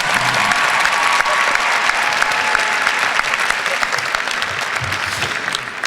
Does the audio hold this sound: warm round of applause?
yes